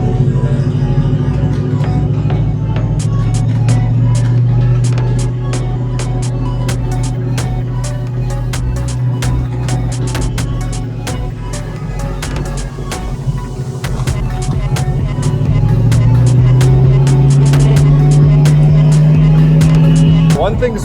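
Lowered Foxbody Mustang cruising on the road, its engine a steady low drone with a throbbing hum that swells toward the end; someone talks over it throughout.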